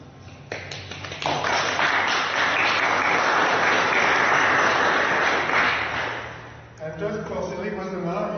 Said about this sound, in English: I think we can applaud Laurent Ballon because he made a lot of contribution.